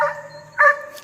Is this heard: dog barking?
yes